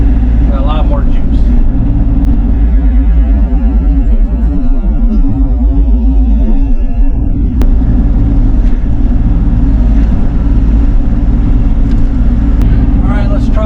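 A Bobcat E42 mini excavator engine roars steadily at full throttle, loud and close, a continuous heavy drone with shifting hydraulic strain while clearing land around a pond in the woods.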